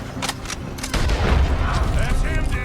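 Video game gunfire from Red Dead Redemption 2 during a chase, with a few quick sharp shots early on, then a dense rumbling battle noise over a loud, busy background.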